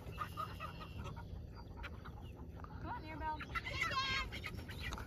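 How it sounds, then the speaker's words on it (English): Chickens cluck and squawk faintly in a farmyard during a chicken-catching effort, brief calls rising near the end beneath people talking. "A person out here catching chickens has just refused to catch a chicken."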